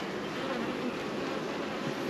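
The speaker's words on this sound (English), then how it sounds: "these bees are not bad today" Steady, dense buzzing of honey bees around an open hive during a beekeeper's weekly checkup, a continuous drone held at an even level throughout with no talk over it.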